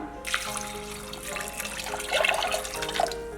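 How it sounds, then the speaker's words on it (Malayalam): Water pours from a vessel into a pressure cooker holding jackfruit seeds, a continuous splashing trickle that swells near the end. "നമുക്കിനി ഇതിലോട്ട് വെള്ളം ഒഴിച്ച് കൊടുക്കാം."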